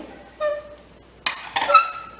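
Chole masala is stirred in a pot after pressure cooking, a spoon scraping and clinking against the metal in a few short strokes, close and moderately loud.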